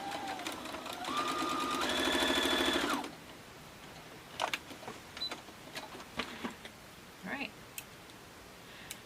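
A sewing machine runs steadily, stitching quilt fabric for a mini quilt, with a whirring mechanical hum that rises in speed and then stops, followed by scattered faint clicks and handling noises.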